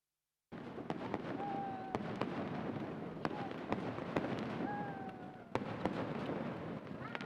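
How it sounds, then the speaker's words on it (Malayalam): A sample fireworks display at Thrissur Pooram in Thekkinkadu sets off a dense series of booming bursts and sharp cracks. A few rising whistles cut through a continuous crackling roar, heard from a distance. "പൂരങ്ങളുടെ പൂരത്തിലെ സാമ്പിൾ വെടിക്കെട്ട് വർണ്ണവിസ്മയം തീർത്തു."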